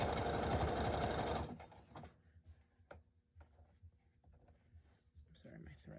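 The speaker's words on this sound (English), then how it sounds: "we're going to sew all the way down, straight line" A sewing machine runs loud and steady for about a second and a half, stitching stretch fabric in a straight line for a twisted headband, then stops, leaving faint handling clicks and rustles.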